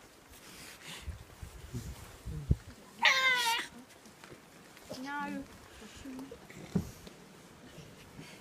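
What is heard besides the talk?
Tasmanian devil vocalisations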